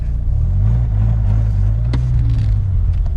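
A Dodge Viper RT10 sports car accelerates hard from a launch, its deep engine roar loud and steady throughout with a rising tone and a brief sharp transient midway.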